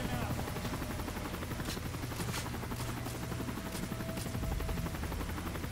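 Helicopters in a first-person shooter game, a steady whirring rotor drone running loud and continuous through the scene, with faint gunfire-like pops and a person talking over it.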